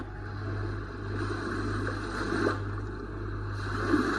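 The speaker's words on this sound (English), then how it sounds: "Ocean waves" An Aptoyu white noise night light gives out its ocean waves sound, a soft, continuous wash of surf that swells gently, faint and steady over a low hum.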